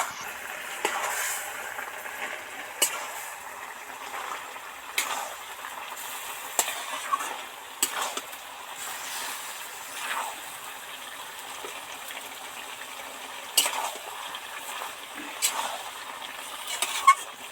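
A pan of spinach curry with taro and potato is stirred, giving repeated soft scrapes and clicks of the spoon over a low, steady background hiss.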